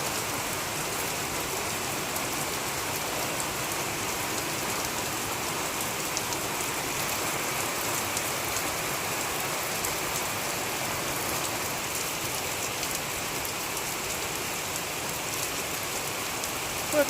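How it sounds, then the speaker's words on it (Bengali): Heavy rain pours steadily onto surfaces, a dense, continuous hiss of drops that stays loud and unbroken from start to finish, with no voices. "যে বৃষ্টি শুরু হয়েছে, জানি না যেতে পারবো কিনা"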